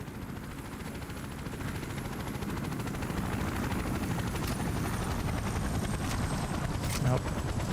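A helicopter in a video game flies steadily with a loud, continuous rotor drone that swells a little partway through and then holds at an even level.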